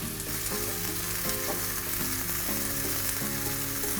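Chicken pieces fry in oil in a pan, a dense, continuous sizzle and crackle that stays loud and close for the whole stretch, with no talking.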